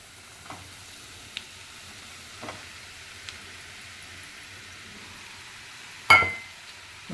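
Soaked sabudana (tapioca pearls) dropped into a hot pan for khichdi gives a faint, low sizzle, with a few soft clinks of a spoon and a sharper scrape or clatter near the end.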